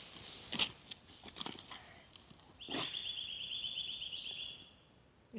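A small bird sings from a tree in a forest, giving a bright, sustained chirping trill at moderate distance after a few soft rustles and footsteps, with no talk over it.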